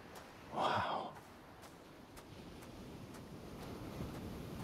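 Gusting wind in the action game Hades, a whooshing gust that swells early and then settles into a steady airy rush with faint ticks.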